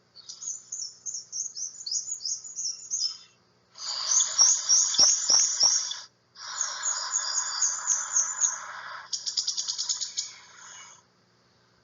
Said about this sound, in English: Here's the song of the black and white warbler.